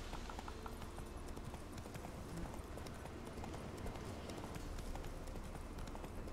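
A horse's hooves clip-clop in a steady galloping rhythm in The Witcher 3: Wild Hunt, loud and continuous throughout without talk.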